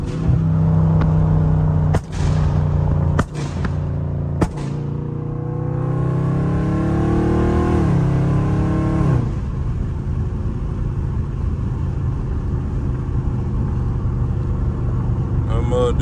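A Dodge Scat Pack engine revs hard while driving, a loud rising roar with sharp pops and cracks early on, then a steadier rumbling drone; someone talks over it.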